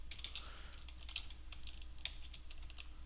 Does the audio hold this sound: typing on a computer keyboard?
yes